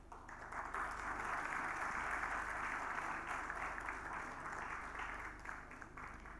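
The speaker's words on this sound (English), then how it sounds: "Ladies and gentlemen, please welcome with a huge round of applause to the session." An audience at the CII India Mediterranean Business Conclave applauds to open a conference session, producing a continuous wash of clapping from many hands, fairly distant and subdued, holding steady before easing slightly near the end.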